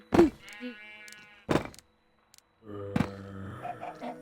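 Sheep in the Minecraft video game bleat in short, close calls, one after another, with brief gaps and a soft thud between them.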